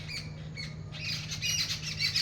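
Birds in a farm field in the morning give faint, scattered squawks and chirps over a low steady hum, the calls growing a little busier toward the end, with no talk.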